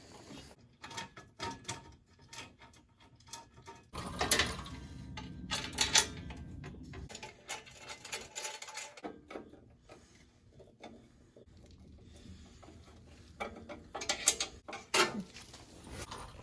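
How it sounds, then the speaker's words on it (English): A nut is tightened onto a screw holding a fold-down bumper step on a 1977 Ford F150 4x4, giving short bursts of ratcheting, clicking mechanical sounds separated by quiet pauses, close and fairly soft. "put a nut on the back side and tighten it down."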